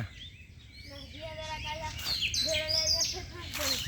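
Bird chirps and short whistled calls from a dove repeat close by, bright and fairly steady over a faint background hum.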